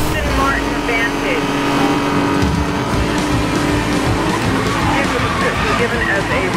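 A red Aston Martin Vantage in Need for Speed Most Wanted (2012) races under a police pursuit, its engine roaring continuously and loudly with road noise, while radio chatter plays over it.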